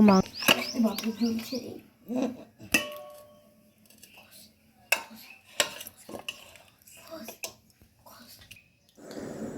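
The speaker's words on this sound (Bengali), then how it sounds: "প্রথমেই আমি ভাতগুলোকে দিয়ে দিচ্ছি, তারপর কিছুটা মাংস, আলু আর গ্রেভিটা দিয়ে দেব।" Rice, meat, potato and gravy are spooned into a pot in a home kitchen, with close clinks and scrapes of a utensil against metal and soft wet plops, separated by quiet gaps while a voice speaks now and then.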